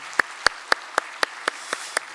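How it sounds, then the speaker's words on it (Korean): Applause from a church congregation after a violin duet at a Christmas Sunday service, heard here as about eight separate, evenly spaced claps, close and fairly crisp, with no voices. "우리 바이올린 이중주 해주신 세 분에게도 박수 한번 하겠습니다"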